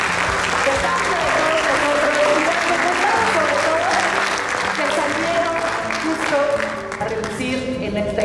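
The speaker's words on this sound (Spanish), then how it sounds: "por favor, denles un aplauso y un agradecimiento." Steady applause from a large crowd fills the whole stretch, dense and continuous, with some voices faintly mixed underneath.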